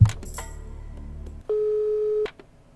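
A phone call in the video game Rogue State sounds as a single steady electronic tone lasting under a second, following a few soft clicks and a low hum.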